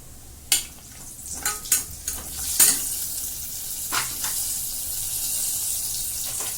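Whole spices, including cloves, star anise and black cardamom, crackle in hot oil along with cumin, with sharp pops and clattering stirs over a soft background sizzle, close by and without speech.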